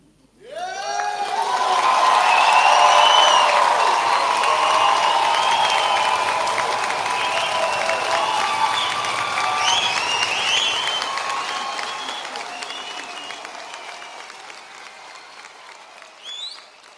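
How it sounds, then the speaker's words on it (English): Loud, sustained applause with cheering from a graduation ceremony audience, swelling quickly and then slowly fading over many seconds. "We do think that probably you do deserve one very special round of applause."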